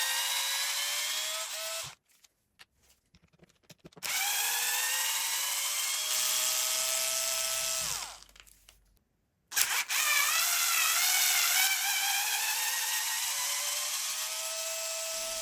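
A power tool or electric screwdriver whirrs while removing bolts from an Arrma Senton RC car chassis. It runs in three close, steady bursts, each with a rising whine, separated by brief pauses, and no one speaks.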